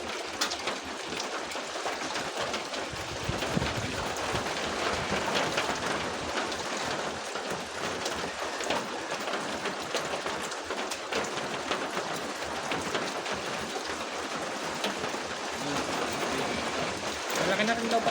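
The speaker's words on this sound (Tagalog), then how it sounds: "Ganito lang ang ulan nito, oh. Malakas ang tulo doon." Heavy rain pours steadily and loudly, with strong dripping from a leak nearby, a dense continuous hiss that lasts throughout with a voice speaking faintly underneath.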